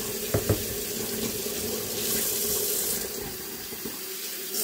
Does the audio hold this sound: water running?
yes